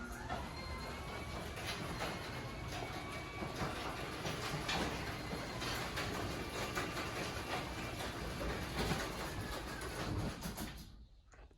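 A Genie garage door opener raises the door with a continuous rattling motor drone and chain hum lasting around ten seconds, then stops abruptly and falls quiet.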